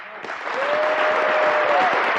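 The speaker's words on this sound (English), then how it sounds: "if you can applaud" Audience applause at a storytelling festival, a steady wash of clapping that swells in over the first half-second and holds loud and continuous, with a faint whistle or cheer rising briefly above it.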